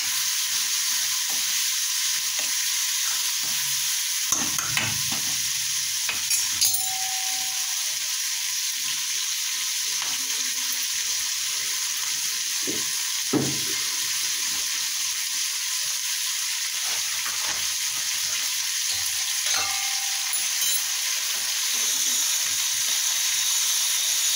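Green chillies fry in hot oil for mirchi bhaji, a constant close, bright sizzle and hiss with occasional faint clinks and stirring knocks, no one talking.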